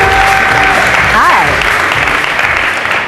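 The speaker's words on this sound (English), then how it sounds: "Round of applause." Studio audience applause at a televised debate, a loud, dense wash of clapping lasting the whole stretch, with an excited voice briefly rising above it.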